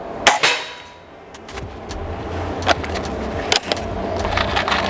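An entry-level air rifle carbine fires a few sharp, crisp cracks at irregular intervals over a low background hiss, with no talking.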